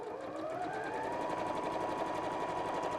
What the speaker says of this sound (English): you can pull the top of the bag forwards to carry on stitching the rest of the bag